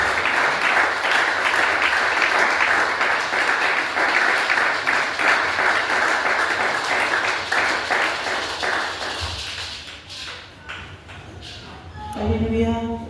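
A church congregation applauds and cheers at a French-language worship service, with loud, steady clapping that lasts about nine seconds before fading into scattered claps and brief voices.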